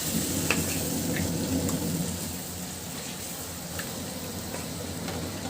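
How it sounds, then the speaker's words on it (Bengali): Spice paste of turmeric, chili, coriander, salt and ginger-garlic-cumin fries in a pan for a beef and new potato curry, a steady dense sizzle with faint occasional stirring clicks. "মশলাটা খুব সুন্দর করে কষিয়ে নিব।"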